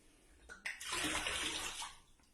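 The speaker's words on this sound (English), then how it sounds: "That was just water." Water gushes from a tap into a bathtub in a home bathroom: a short, loud, broadband rush that starts abruptly after a couple of faint knocks and holds steady before easing off, close by with no talking.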